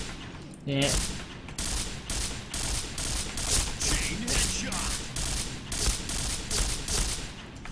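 An AUG A3 airsoft gun fires single shots and then quick bursts, sharp close cracks with a mechanical clatter in an irregular rhythm, and someone speaks briefly at the start.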